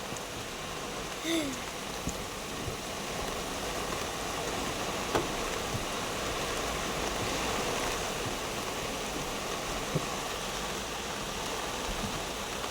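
Heavy rain pours down steadily outdoors as a constant hiss, with a few faint knocks and tapping drops and no voices over it.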